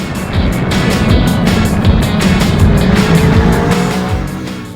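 An Aprilia Tuono V4 1100 motorcycle accelerates hard on an opening road, its engine roaring loudly and continuously up close with rising revs and rushing wind.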